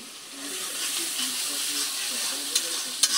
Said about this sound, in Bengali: ইলিশের শুটকিটা দিয়ে দিলাম। একটু ভালো করে কষাইয়া